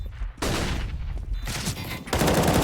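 Dense, loud bursts of CS:GO gunfire on the B bomb site of the Vertigo map, with an AWP sniper involved, coming in overlapping volleys with a brief lull near the middle.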